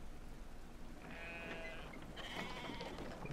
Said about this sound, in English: I can interact with goats.